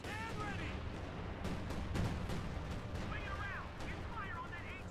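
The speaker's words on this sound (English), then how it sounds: "Time on target artillery." A time-on-target artillery barrage in the Company of Heroes 2 strategy game, with a dense run of booming impacts and crackling blasts layered over rumbling battle ambience and faint whistling shells, under a speaking voice.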